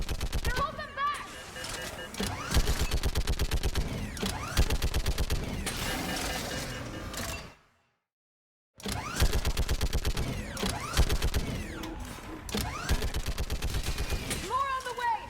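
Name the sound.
mounted gun firing in Mass Effect 3 video game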